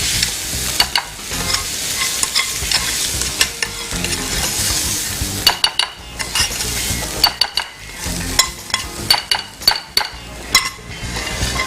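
A spoon stirs and scrapes bean burger paste with sautéed onion and dry spices in a frying pan, steady mixing with repeated clinks against the pan over a light background hiss.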